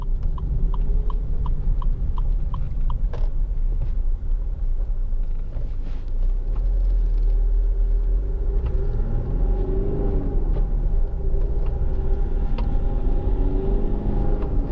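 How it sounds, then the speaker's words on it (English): Interior rumble of a Land Rover Freelander 2 2.2 Td4 SE diesel on tight country lanes with poor surfaces, a steady low engine and road drone with occasional bumps and ticks, no talking. "I'll just go down a little bit of sort of tighter country lanes now, over some sort of poorer surfaces"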